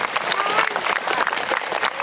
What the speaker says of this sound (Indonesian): Tepuk tangan untuk Pak PJ, Bu, Pak Wali Kota.